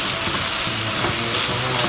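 Chopped onions, four medium ones, sizzle and fry steadily in a hot pan while Malabar chicken rice is being cooked, with a dense, continuous crackle all the way through and no voice over it.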